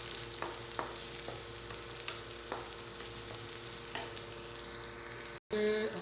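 Chopped garlic sizzles in hot oil with onion for a crab and squash coconut-milk dish, a steady close hiss broken by scraping stirs, with soft tonal music underneath and a brief cut near the end.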